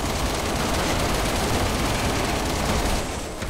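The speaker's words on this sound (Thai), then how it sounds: "ต้องเอาปืนกลมาเลย" Machine gun fire rattles in the video game Resident Evil 6, a dense, loud, continuous burst of rapid shots that fades slightly at the end.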